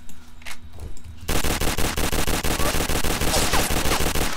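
Sustained automatic gunfire in the Roblox survival game Apocalypse Rising, a fast regular rattle of shots that starts abruptly after a quiet moment and continues loudly to the end.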